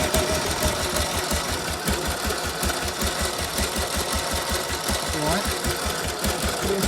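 A Ransomes MG40 crawler tractor engine running at low revs gives off a rapid, even chugging beat that stays steady and close throughout.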